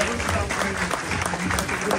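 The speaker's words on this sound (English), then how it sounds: "Can we get another round of applause for him?" A large audience at a late-night fan convention show gives a loud round of applause, a dense, continuous roar of clapping with crowd noise mixed in.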